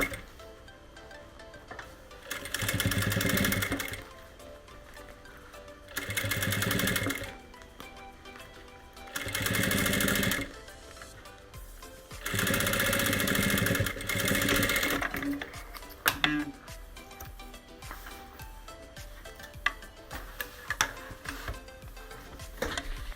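A sewing machine stitches a small case in four steady bursts of fast whirring, each a few seconds long with pauses between them, close and clear, followed by soft handling clicks.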